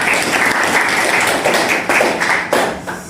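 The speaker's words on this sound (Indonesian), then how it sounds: "tepuk tangan untuk Kenny dan Saka" A classroom of high school students claps loudly and densely for two classmates, a close, continuous burst of applause lasting a few seconds.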